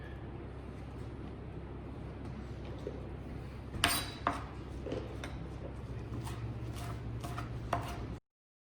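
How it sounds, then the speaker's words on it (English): Kitchen knife chopping freshly picked coriander leaves on a board: a few sharp, close chops, then lighter irregular cutting taps over a steady low room hum. "We're going to pick the leaves off the stems and finally chop them up as well."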